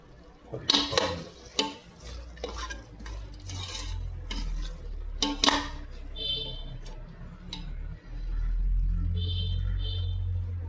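A spoon clanks and scrapes in a pan, then a low, steady bubbling rises as thick chicken biryani masala begins to boil, with faint sizzling on top.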